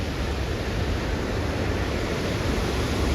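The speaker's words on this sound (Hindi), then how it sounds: "नर्मदा जी एकदम कल कल बह रही है यहाँ पे" The Narmada river flows near Bargi Dam toward Dhuandhar Falls, a dense, continuous rushing murmur of water that stays steady and fairly loud throughout, with no voices.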